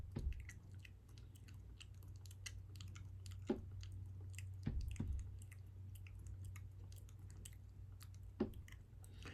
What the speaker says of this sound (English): he pulls a piece of lamb's ear off the ground, which is growing everywhere, and he proceeds to chew on it